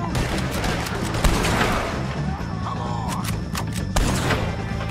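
Gunfire in Red Dead Redemption 2, with loud rapid shots and sharp cracks over a dense, continuous game soundscape of thuds and rumble, heard up close throughout.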